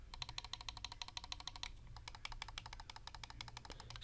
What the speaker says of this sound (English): Side buttons.